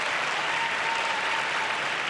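Crowd applauding figure skaters at an ice rink, a dense steady wash of clapping from a large audience, continuous and loud throughout.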